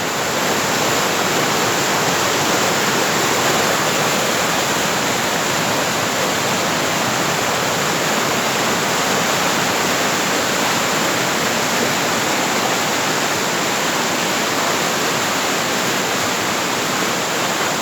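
A powerful river at The Abbey in Ballyshannon, County Donegal, Ireland, rushes with a loud, steady, broadband roar of churning water that stays constant and unbroken throughout.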